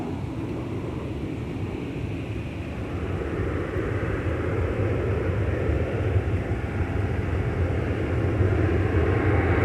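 A Delta Airbus A320-200 at Minneapolis–St. Paul airport produces a deep, continuous jet-engine rumble with a broad roar, holding steady at a moderate distance for several seconds.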